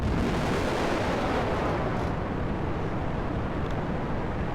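A rocket launch in a video game, a dense, loud roar that stays steady for the full few seconds, with no talk over it.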